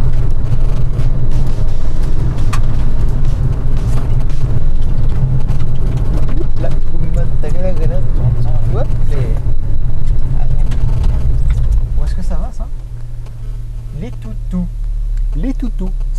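A Rover 200 rolls through snow, its engine a steady low hum that drops to a quieter idle near the end, with someone talking over it throughout.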